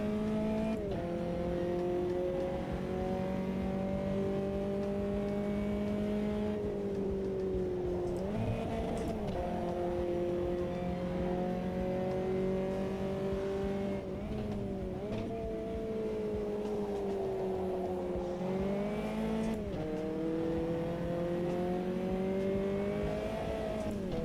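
A race car engine in the video game Automobilista 2 drones loudly and continuously, its pitch dipping and rising with gear changes and throttle shifts over a steady lap, with no talking.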